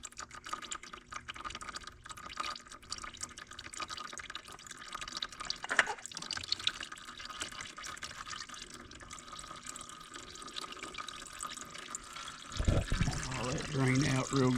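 Engine oil drains from a 2023 Yamaha Tenere 700 motorcycle in a steady trickling, pouring stream with dripping. The flow continues throughout and swells near the end.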